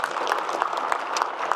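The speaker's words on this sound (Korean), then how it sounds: "박수 한번 주세요" Audience applause at a South Korean presidential town-hall event in Gyeongnam, a steady, even patter of many hands clapping throughout, moderately loud, with no voices.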